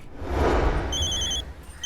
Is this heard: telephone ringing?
yes